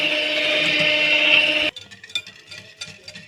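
Electric mixer beating a simple cocoa cake batter, a steady close motor whine for about a second and a half, then it cuts off, leaving quiet scattered clinks.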